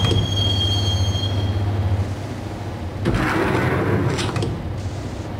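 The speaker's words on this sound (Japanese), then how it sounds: "地下鉄は俺を乗せて動き始めた。" Subway train moving in the Max Payne video game, a loud continuous rumble of wheels with a rising roar and squeal partway through, no voices.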